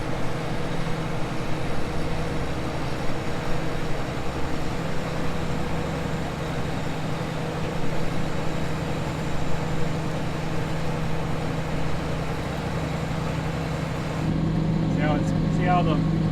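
A new tractor engine drones steadily at about 1300 RPM while pulling a Soil-Max tile plow through a field, a constant low hum that continues under intermittent talk.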